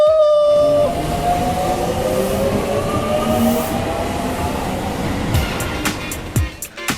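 A train pulls away with a loud mechanical rumble and a rising whine, clattering wheels fading, then a few sharp metallic clanks at the end.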